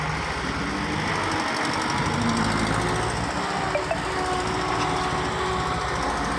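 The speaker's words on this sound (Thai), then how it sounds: "เอารถไถมาปาดครับ" A farm tractor scrapes soil on a steep dirt path after rain, its engine a loud, continuous close rumble with a steady rattle and faint scraping underneath.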